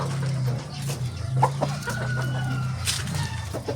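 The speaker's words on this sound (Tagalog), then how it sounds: "Nandito po ko ngayon sa aking manok. Hawakan ko po yung manok ko." A chicken clucks and crows close by in repeated throaty bursts, with farmyard background noise throughout.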